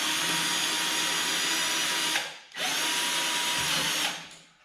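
A power drill whines steadily as it drives a screw into a wooden floor joist, running in two long bursts separated by a brief pause and trailing off at the end, close and loud.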